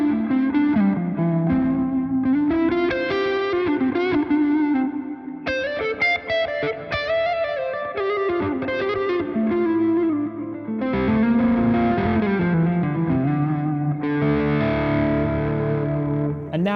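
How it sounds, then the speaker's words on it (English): Electric guitar played through a NUX MG 50 Li modeling amp with a damp reverb setting, sustained distorted chords and melodic lines ringing out with a short, muted reverb tail, loud and continuous with no talking. "We got the damp reverb."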